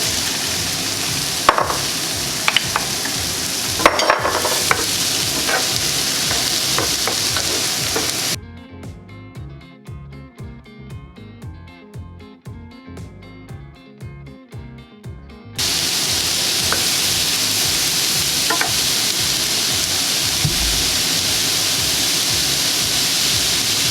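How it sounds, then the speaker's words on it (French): Mushrooms added to chicken in a frying pan sizzle steadily and loudly, a dense frying hiss that drops away for several seconds before returning at full strength, with no voices. "On ajoute les champignons."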